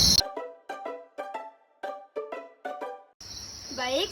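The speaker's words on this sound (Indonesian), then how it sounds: "jenis jangkrik yang diternakan di sini adalah jenis jangkrik madu" Honey crickets at a cricket farm chirp in a steady run of short, evenly spaced pulses, loud and close, after a brief burst of other noise at the start and before a closing stretch of hiss.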